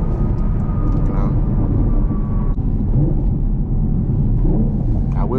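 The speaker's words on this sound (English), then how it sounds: "This exhaust sounds amazing." Loud, continuous exhaust drone from a Camaro 2SS 1LE with a six-speed manual, heard from inside the car during downshifts, with a rumbling low roar that rises near the end.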